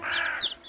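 Animated cartoon crow gives one short, loud, rasping caw lasting under a second, with no talk over it.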